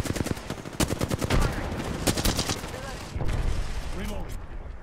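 Airstrike in the Apex Legends battle royale game, heard as dense rapid bursts of gunfire-like blasts and booms across the whole stretch, loud and continuous with game effects, while players talk over it.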